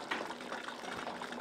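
Syrup bubbling in a pot on a stove gives a steady, close, moderately loud seething and popping texture throughout, with no voices.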